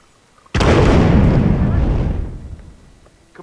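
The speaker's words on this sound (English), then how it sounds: "All units, be aware of explosions in the area!" In the video game Hitman, set in Hokkaido, a single loud explosion bursts suddenly and rolls out into a long rumbling decay over about two seconds.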